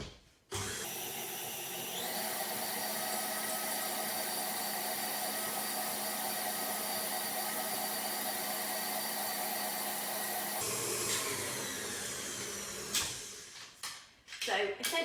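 A handheld electric mixer beats butter and icing sugar for cupcakes, a loud, steady motor whine that runs without a break for about ten seconds before cutting out, followed by a few clattering knocks.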